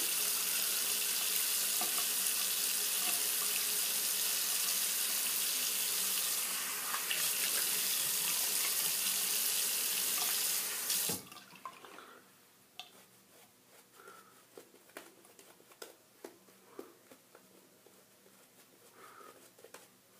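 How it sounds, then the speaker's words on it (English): Steady rushing of a tap running into a sink for about eleven seconds, then it cuts off, leaving faint drips and splashes as a face is wetted for the second pass of a shave. "now I'll go ahead and just wet my face again"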